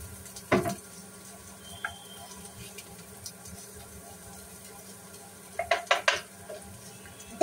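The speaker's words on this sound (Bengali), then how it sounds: "ম্যাগি মশলা দিয়ে ভাজা ভাজা করে নিচ্ছি, দেখতেই পাচ্ছ আলুটা।" Potatoes fry in a pan with Maggi masala, giving a soft, steady sizzle broken by a few sharp spatula stirs and scrapes against the pan, heard up close with no talking.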